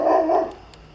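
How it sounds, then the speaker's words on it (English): A single dog bark, close and fairly loud, then quickly fades. "That's my dog. If you hear that barking, don't worry."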